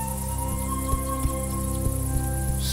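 Crickets chirp in the video game A Juggler's Tale, a steady high trill with soft rhythmic plucked notes and a sustained tone beneath, calm and evenly paced.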